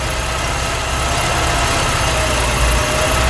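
A Vauxhall Cavalier MK2 with a 1300 engine runs after a carburettor rebuild, giving a steady, loud, throaty idle close by with no break.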